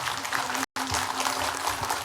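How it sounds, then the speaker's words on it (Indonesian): Studio audience applause on a televised religious talk show, a dense, steady wash of many hands clapping that fills the space, briefly cut off by a split-second dropout before resuming at full strength. "Sekali lagi tepuk tangan untuk mereka."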